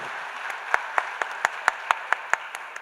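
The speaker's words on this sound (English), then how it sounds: "one round of applause for the police department here." An audience at a women's conclave panel discussion claps in a slow, even rhythm, about a dozen distinct claps spaced roughly a quarter second apart over a low background hum.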